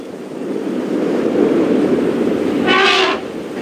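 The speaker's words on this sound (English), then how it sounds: "All the trumpeting and rumbling that we've been hearing." Wild elephants on a safari game drive, with one loud trumpeting blast near the end rising above a steady rumble of wind and vehicle noise.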